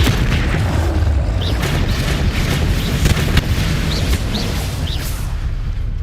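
The Bombarda spell in the video game Hogwarts Legacy sets off heavy, booming blasts over a loud, continuous rumbling roar, with sharper bursts and faint whistling tones scattered through.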